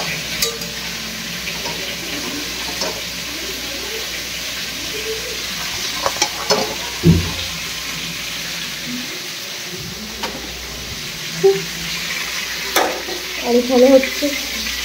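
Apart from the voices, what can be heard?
pointed gourd (potol) frying in pan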